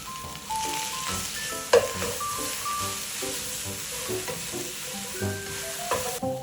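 Chopped cabbage and mixed seafood with minced garlic are stir-fried in a hot pan for a jjamppong-style noodle soup, with a steady close sizzle broken by scraping and clinking stirs and a sharp clatter near the start.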